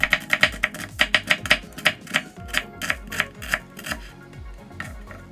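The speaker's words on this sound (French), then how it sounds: "on va juste détailler en lamelles, ou en gros tronçons" Knife cutting an onion into strips on a board for a budae jjigae stew, a fast run of crisp close chops in an even rhythm that slows toward the end, with no talking.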